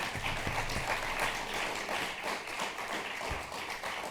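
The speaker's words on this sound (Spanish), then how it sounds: "quiero pediros un primer aplauso para esta gente que nos acompaña hoy" Audience applause during a discussion after a film preview screening, a steady, moderately loud patter of many hands clapping that holds evenly from start to finish.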